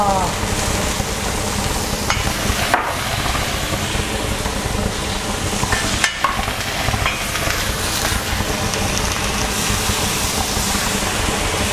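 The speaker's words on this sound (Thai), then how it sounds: "คราวนี้เอากระหล่ำค่ะ ลงไปนาบเลย" Four or five cabbage leaves sear in a scorching-hot pan, giving a steady, loud crackling sizzle that runs unbroken from start to finish.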